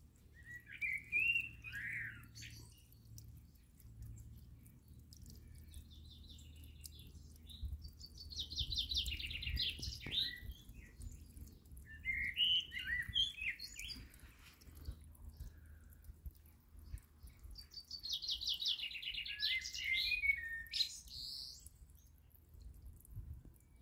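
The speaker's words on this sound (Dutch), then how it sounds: "En hoort u de merels eens op de achtergrond." Blackbirds singing in a garden beside a pond, several bright warbling phrases coming in bursts at a moderate distance over a quiet background with faint trickling water.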